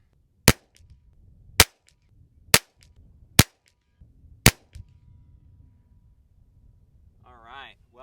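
Gunshots from people shooting nearby at an outdoor range ring out as five sharp, loud cracks spaced about a second apart, followed by quiet background and a brief voice.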